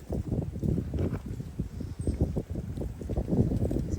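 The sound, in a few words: wind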